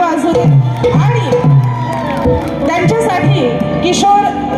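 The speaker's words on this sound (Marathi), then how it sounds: "एकदा जोरदार टाळ्या वाजू दे" A crowd at a Marathi shahiri folk stage performance cheers and whoops loudly in a lively burst, with shouting voices and babble mixed through.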